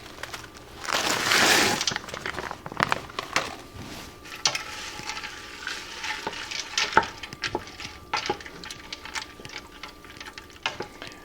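Peas being added and stirred into a thickening chicken pot pie filling in a pot, a brief burst of pouring and bubbling followed by scattered scraping, clicking stirs and a soft simmer, close and moderately loud.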